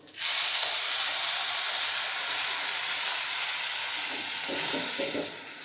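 Water poured into a hot claypot of rice with scallops and Chinese sausage hisses and sizzles loudly, a steady steaming roar that begins abruptly and holds for several seconds before easing slightly at the end.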